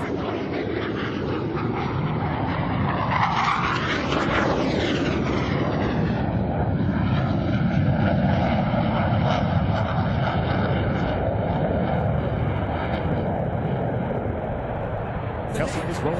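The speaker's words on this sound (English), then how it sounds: "Approaching center point, they will roll their aircraft 360 degrees, pausing after each 90 degrees of rotation" Blue Angels jets doing a hesitation roll at the 2021 Sun 'n Fun air show give a loud, sustained roar with a sweeping pitch shift as they pass, while an announcer talks over it.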